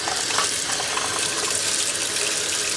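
Hot water runs from a tap after a Suburban ST60 water heater is replaced, giving a steady, close splashing gush that holds level the whole time with no talking.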